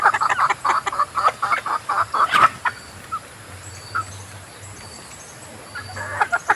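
Roosters and hens being fed in the morning or afternoon, a burst of close, rapid clucking and squawking in the first seconds, then quieter scattered calls over soft background noise.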